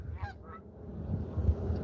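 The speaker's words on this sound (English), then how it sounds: "Listen to the geese testify." Several geese honk out on a cold street, a few scattered calls early on and then lower, throatier honks toward the end, moderately distant over steady low background rumble.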